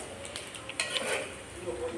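Food is fried and stirred in a pan at home, with light sizzling and a run of scraping and clinking utensil strokes against the pan, close and moderately loud.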